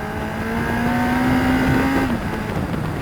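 A car engine on the Mallory race track holds a steady drone with a rising tone, then drops pitch as the driver changes down a gear, loud and close, with no talk.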